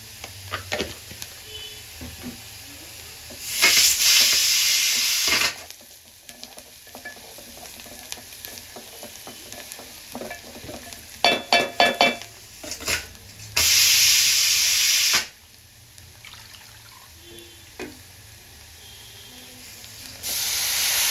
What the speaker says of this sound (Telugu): ఇప్పుడు కొంచెం పసుపు యాడ్ చేసుకొని ఇంకా చుక్క కూర అయితే వేసేసుకుందాం